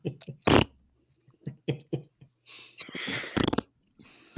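A comic flatulence sound effect from the film Star Wars: The Phantom Menace (1999), a short wet blurting burst among several brief noises and bits of talk, fairly close and loud.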